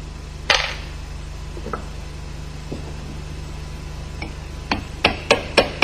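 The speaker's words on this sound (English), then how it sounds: "Flatten all six tab washers and remove the screws." Hammer blows flatten the tab washers on an MZ 250 motorcycle engine: a few scattered metallic taps, then a quickening run of five sharp, close strikes at the end over a steady background hum.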